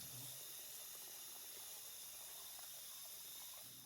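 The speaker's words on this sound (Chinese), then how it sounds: "去除虾线以后，还是要清洗一下" Tap water runs in a steady, hissing stream into a sink as deveined shrimp are rinsed, a continuous close splashing with no voices.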